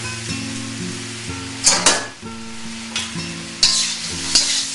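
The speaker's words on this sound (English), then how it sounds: "Now we're going to stir this around a little more" Jumbo shrimp fry and sizzle in a pan, seasoned with salt and pepper, as a utensil stirs them, sending sharp scraping bursts over a steady close hiss and a low hum.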